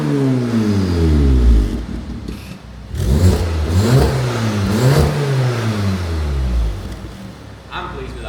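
A 400 bhp Audi S3 8V with a custom valved exhaust system revs repeatedly, rising and falling in several close, loud pulls, with people talking over it.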